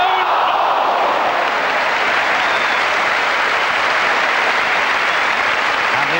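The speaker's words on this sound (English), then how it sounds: "the applause you can probably hear in the background will tell you how pleased the crowd have been" Football crowd at an Everton versus Southampton match in 1986-87, broad steady applause and crowd noise from a large stadium, sustained and loud for the whole stretch.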